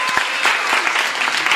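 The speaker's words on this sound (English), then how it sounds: "So a round of applause for Shannon." Lively audience applause at a children's book reading, brisk clapping filling the short moment evenly from start to finish.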